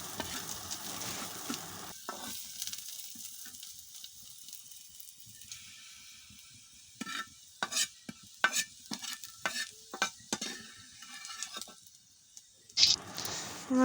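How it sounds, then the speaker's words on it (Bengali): Chopped onions fry in a pan with a soft, steady sizzle and hiss, broken later by a run of stirring scrapes and clatters from a spoon against the pan. "আগে থেকে কুচানো পেঁয়াজ ছিল, সেই পেঁয়াজটা এখন লাল লাল করে ভেজে নেব"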